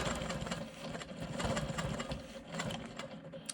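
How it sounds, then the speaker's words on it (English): A Quilt Maker Pro 20 quilting machine stitches smoky swirls into a quilt block, its steady, fast needle hum and mechanical rattle running continuously and close by, fairly quiet, with no talking. "I'm going to come in here and quilt my smoky swirls in this elongated rectangle."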